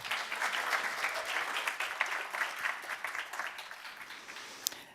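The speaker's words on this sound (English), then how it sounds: "Give them a warm applause." Audience at an entrepreneurship challenge event gives sustained warm applause, a steady wash of many hands clapping at moderate distance with no talking, tapering slightly near the end.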